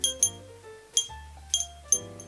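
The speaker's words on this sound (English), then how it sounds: "crystal bell" Crystal Christmas tree bell, clear and frosted with a star on top and a crystal clapper, struck four times at an even pace, each strike a bright ring that decays over a sustained lower hum.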